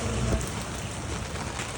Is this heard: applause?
no